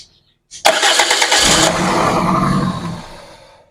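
A 2001 Toyota Corolla Altis 1.8G automatic cranks and fires with one of its four ignition coils dead. It starts loudly and close by, then runs rough and uneven for about three seconds before fading.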